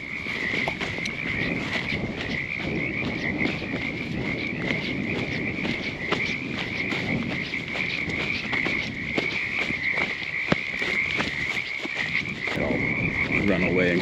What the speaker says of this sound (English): what sounds like dozens, maybe 100 frogs or so on this pond down here